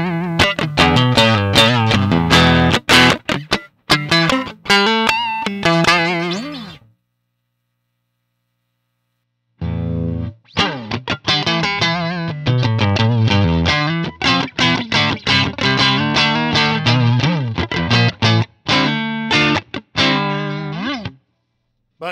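An electric guitar through a clean amp sim, aiming for a Fender Princeton Reverb tone, plays strummed chords and picked notes, loud and close, breaking off into silence for a few seconds before starting up again.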